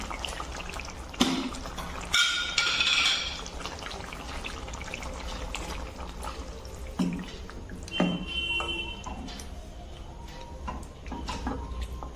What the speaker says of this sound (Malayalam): ഇനി ഇതിനകത്തേക്ക് നമുക്ക് തേങ്ങാപ്പാൽ ചേർത്ത് കൊടുത്തിട്ട് സ്റ്റൗ ഓഫാക്കാം